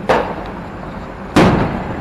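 Two sharp fireworks bangs go off a little over a second apart, each with a crackling decay, fairly loud outdoors.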